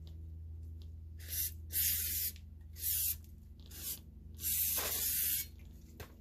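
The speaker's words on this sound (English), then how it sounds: "I'm just going to take some of this brake cleaner that I just went and got and spray it a little bit in here" Brake cleaner is sprayed into a part from an old fire truck in a quiet workshop, with four or five short, sharp hissing bursts of varying length separated by brief gaps, close and distinct over a low hum.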